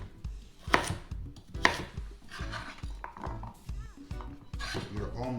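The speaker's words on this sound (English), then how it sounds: "I cut a flat side so I can lay it down and make my slices without any endangerment to my hands" A knife slices a round vegetable on a board, producing a steady run of close, firm chops with a few sharper knocks, and speech runs beneath the cutting.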